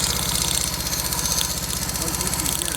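A 54-year-old Honda CB350 motorcycle engine firing, close and steady with an even rapid pulse and a mechanical rattle that runs through the whole stretch.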